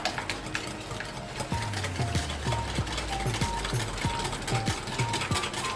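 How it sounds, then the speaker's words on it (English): Cheese spread is whisked in a bowl for a no-bake eggless strawberry cheesecake, giving quick, regular clicking and scraping strokes close by, with no speech. "Now add cheese spread. And whisk it again."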